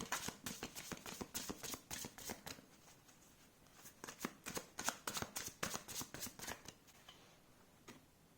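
Tarot cards are handled and laid down in a rapid series of soft, crisp flicks and taps, close and fairly quiet, in uneven bursts with short pauses.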